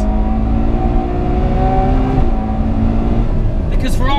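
A Ferrari 812 Superfast at Fiorano roars under hard acceleration, a loud, close, rising engine note with a brief shift partway through, while someone talks over it.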